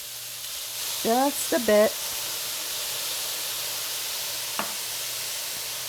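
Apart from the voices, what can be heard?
soy sauce added to a sizzling stir-fry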